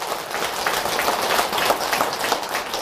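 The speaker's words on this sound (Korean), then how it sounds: "박수 한번 드리세요." An audience breaks into applause, a dense patter of many hands clapping at a steady level for a few seconds.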